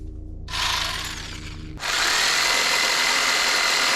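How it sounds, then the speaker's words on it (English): A power saw cuts through a small horizontal wooden beam inside a Transit Custom camper van build, starting with a rising whine, then settling into a loud, steady, close grinding roar that runs without pause. "Sawing up a small horizontal little beam just to put through there to secure in the top section of this."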